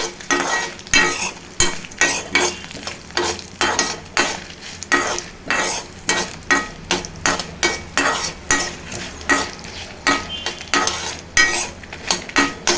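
Whole dry spices such as red chillies, coriander seeds, cumin, cloves, cardamom, cinnamon and peppercorns stirred and dry-fried in a pan, with rhythmic scraping strokes and a steady crackle, close and loud, no talk.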